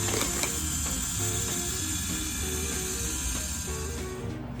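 A tumbler spinner slowly turns an epoxy-coated glitter tumbler, giving a steady low mechanical whir with faint, regular gear-like ticking and no talk.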